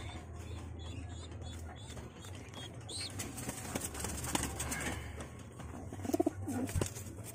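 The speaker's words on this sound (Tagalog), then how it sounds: "So, ayan, kunin natin mga kalapatids." Pigeons cooing softly and intermittently in a loft, low murmuring coos over a steady background hum, with a brief flutter and faint bursts of other calls near the end.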